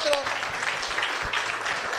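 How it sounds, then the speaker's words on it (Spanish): A room full of people applauds, a dense patter of claps with voices mixed in underneath. "Fuerte el aplauso para todos nosotros."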